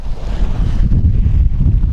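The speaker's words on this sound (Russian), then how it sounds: "ветер дует" Steady wind gusts buffet and roar by the sea, with low rumbling noise throughout and no voices.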